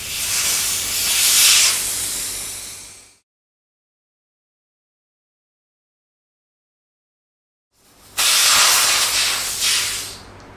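Air hisses loudly out of tire valves as the valve cores come out on an off-road motorcycle tire being fitted with a Tubliss system: one bright spray lasting a few seconds, a long pause, then a second burst.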